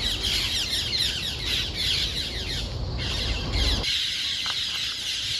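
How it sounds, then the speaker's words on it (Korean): A large flock of feral parrots established in the wild across Japan squawks loudly and continuously, dense overlapping harsh calls close by, with a brief lull near the end. "10여 년 전엔 200마리에 불과했다는 앵무새."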